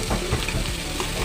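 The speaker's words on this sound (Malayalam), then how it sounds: "നല്ലോണം പച്ചമണം മാറുന്നത് വരെ നമ്മൾ വഴറ്റി കൊടുക്കണം" Onion masala with curry leaves sautés for an Indian egg roast, giving a steady, close sizzle of frying with soft stirring scrapes throughout.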